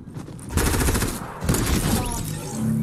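Rapid gunfire in the video game Fortnite, with a dense burst of shots, a short pause, then another sustained volley, loud and close in a game match.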